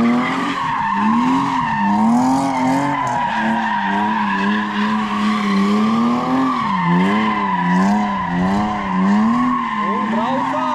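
A BMW E46 323 drives a big loop and skids, its tires squealing in long wavering tones over the engine's drone, loud and continuous for the whole stretch.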